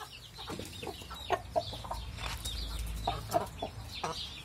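Hens in a backyard pen cluck in short, irregular bursts at close range, a few low murmurs and sharper clucks scattered over a quiet outdoor background.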